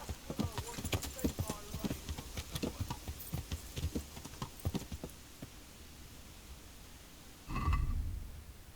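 A horse's hooves clip-clop in the medieval game Kingdom Come Deliverance, a quick run of crisp steps for about five seconds that then stops, followed by a brief heavy thud or snort.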